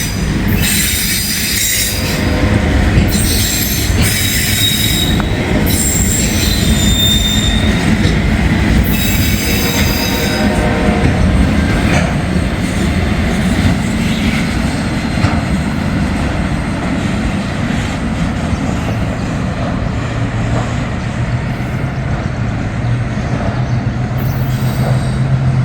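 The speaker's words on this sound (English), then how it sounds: "Short little Norfolk Southern train." A short Norfolk Southern freight train rolls past close by, wheels squealing and cars rumbling in a steady, loud wash that continues throughout.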